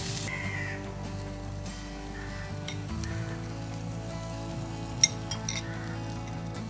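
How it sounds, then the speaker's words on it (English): Food sautéing in a pan over an industrial burner in a resort kitchen, a steady low sizzle running throughout with a brief clink of utensils near the end. "Now it's getting nicely sauteed."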